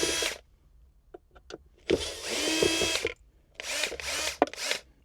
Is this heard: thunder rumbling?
no